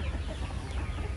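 Chickens cluck softly in a brief burst against a noisy outdoor background in General Santos City, Philippines.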